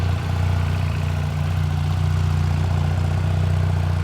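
A 1300cc motorcycle fitted with a full exhaust idles with a deep, steady, low droning hum and a mild vibrating texture. The sound holds even and unchanging for a few seconds, close by and with no talking.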